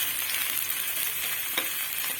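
Crushed ginger, garlic and chilli frying in a pan as they are stirred in, giving a continuous close sizzle with a few faint scraping knocks and no speech.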